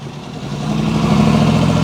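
A Corvette's engine idling as it passes a golf cart in a Florida town street, a steady loud mid-pitched rumble that swells slightly over under two seconds.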